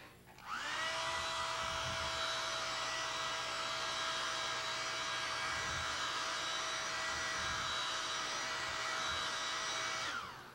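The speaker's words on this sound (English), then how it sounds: "We'll go ahead and take our hair dryer real quick." A hair dryer switches on and blows with a steady, loud whine and rushing air for about ten seconds before cutting off, used to dry contact cement while building a knife sheath.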